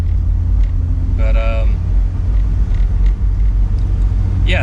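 A convertible with a 2-liter, 240-horsepower engine drives along with its top down, giving a loud, steady low engine rumble and road noise throughout, with brief voice-like tones mixed in.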